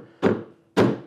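Two sharp, solid thunks of a chisel driven down into a wooden workpiece while chopping a half-lap dovetail joint, close and loud, struck about half a second apart, each ringing out briefly in a quiet room.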